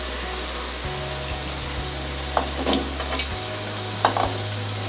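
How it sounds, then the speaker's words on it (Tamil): Three chopped onions tip into a hot pan for a chicken gravy and are stirred, giving a steady close sizzle with a few sharp scraping knocks from the spoon. "மொத்தம் ஆனியன் சேர்க்குறேன்"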